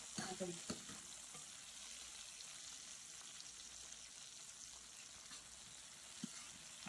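Green chillies sauté in a pan for Gujarati kadhi with a faint, steady sizzle, broken now and then by a soft stirring clink, quiet and close.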